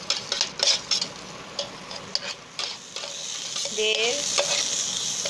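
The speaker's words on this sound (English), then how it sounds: "Now we will stir it." Green chili, garlic and onion frying inside an electric kettle for pasta, stirred with quick clattering scrapes against the pot over a steady sizzle, close, becoming a smoother hiss near the end.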